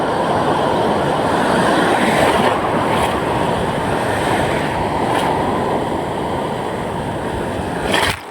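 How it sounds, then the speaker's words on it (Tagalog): Heavy ocean surf breaking and washing in a continuous loud roar, with a few sharper splashes standing out, no talking. "Grabe na alon."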